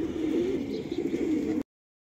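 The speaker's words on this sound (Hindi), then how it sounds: "कुछ कबूतर बाहर आ चुके हैं, कुछ नहीं आए" Pigeons in a loft cage give a steady, low, rolling cooing that continues without pause and then cuts off abruptly, with no voices heard.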